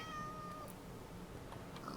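A cat in the Minecraft video game lets out a single thin meow early on, over soft steady background noise, with no one speaking.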